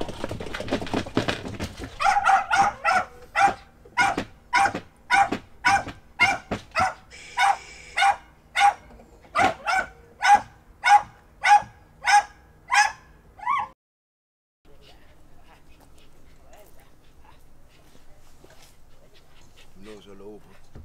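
A dachshund barks repeatedly during hunting-dog training, in a steady, rapid series of loud, close barks, then stops, leaving quiet with faint background noise.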